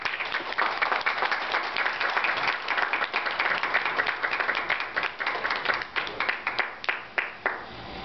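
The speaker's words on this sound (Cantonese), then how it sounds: "大家請俾少少掌聲佢哋咁。" An audience applauds the 13 finalists of the 2008 Miss New York Chinese Beauty Pageant at a press conference, with dense steady clapping that thins out toward the end into a few scattered claps.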